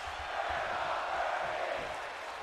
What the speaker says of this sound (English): This crowd now screaming, we're not worthy.